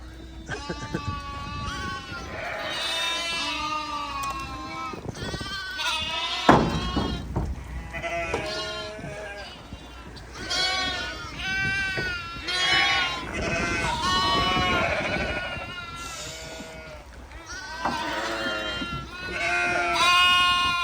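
A whole flock of sheep and many lambs bleat almost continuously in wet outdoor pasture at a solar farm, overlapping calls near and far, with a few brief human remarks in between.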